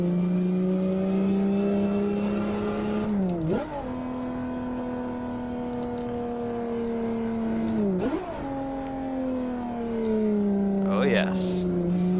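A Ferrari F50's 4.7-liter V12 in the Assetto Corsa racing game, a loud steady engine drone climbing in pitch through two long gear pulls, each ending in a quick shift, with brief higher whine near the end.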